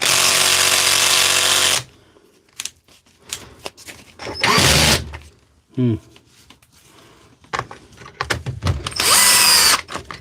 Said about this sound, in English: The ratchet's on.